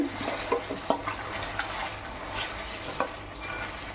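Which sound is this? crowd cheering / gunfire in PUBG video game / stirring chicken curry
stirring chicken curry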